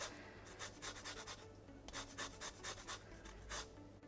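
Quiet, rhythmic rasping of an unwaxed lemon rubbed against a zester, short scraping strokes repeating in bursts close by, with no talking.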